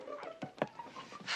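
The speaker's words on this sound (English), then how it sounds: "I think Algonquin likes you. Here, doggy, go on." A small dog makes soft panting breaths and brief whimpers, fairly quiet and close, in short irregular bursts without speech.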